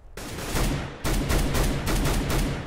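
Gunfire in the video game Counter-Strike on the Nuke map: dense, rapid bursts of shots in two volleys separated by a brief gap, loud and continuous, with no voices.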